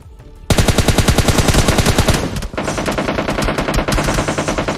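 A gun fires in rapid automatic bursts, loud and close, with a brief pause midway before the rattling shots continue.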